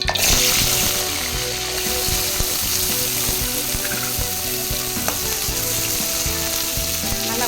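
Chopped small onions fry in hot oil for a fish curry, a loud, constant sizzle with some stirring and clinking from the pan and no talking.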